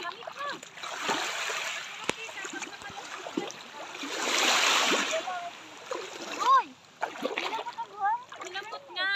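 People splashing while bathing together in cold water, with bursts of sloshing and a rushing wash of water under lively talk and laughter from several voices.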